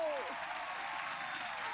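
Applause from an audience at a violinist's stage appearance in the Detective Pikachu video game, a steady crowd clapping that fills the short stretch evenly at moderate level, with no voices over it.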